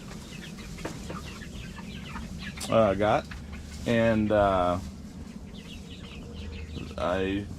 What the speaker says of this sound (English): this is that last batch of meat chickens that we